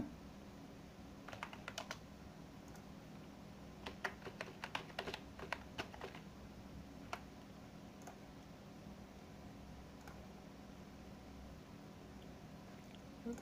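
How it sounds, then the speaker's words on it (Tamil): Fast, light keystrokes tapping out a username and password on a computer keyboard, in irregular bursts over a faint steady hum, with no talking. "இங்கே உங்கள் யூசர் நேம் பாஸ்வேர்டை டைப் பண்ணிங்க"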